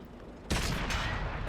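A single heavy burst of tank cannon fire in World of Tanks on console, loud and close, rolling into a sustained rumbling boom that trails off after about a second.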